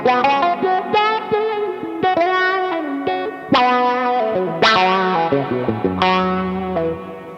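Electric guitar played through an envelope filter and reverb picks out a dark, swampy reggae lick, a string of plucked notes with quacky filtered attacks and lingering reverb tails, loud and close with no voice.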